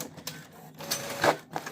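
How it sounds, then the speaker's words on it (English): A newly unpacked sublimation printer runs an ink test page, giving quiet mechanical whirring with soft clicks and brief rising motor pulses, close by and steady with no talk. "it is going to print the test page"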